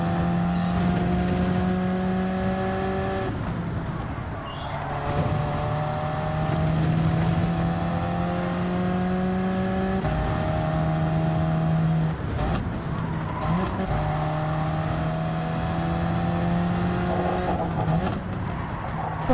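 Racing video game car engine note with braking, a steady loud engine drone whose pitch repeatedly climbs, drops abruptly and climbs again through gear changes and hard slowing, continuous and close throughout with no voices.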